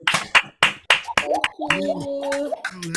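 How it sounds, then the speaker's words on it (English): Audience clapping at a live show, a handful of sharp, separate claps in quick succession, followed by a voice speaking over the last few. "please, one more round of applause."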